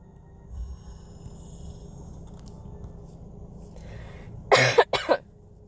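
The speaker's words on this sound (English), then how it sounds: "You guys can tell I'm coughing a little bit more frequently." Two quick, loud coughs from a person nearby, a short burst and a second one right after, following several seconds of quiet room tone.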